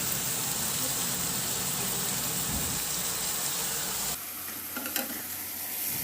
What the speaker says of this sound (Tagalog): Ihalo lang din hanggang sa mag-reduce lang din yung toyo at tomato sauce.